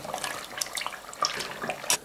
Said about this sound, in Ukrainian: Жирок із жиру витоплюється, дивіться, як він булькає.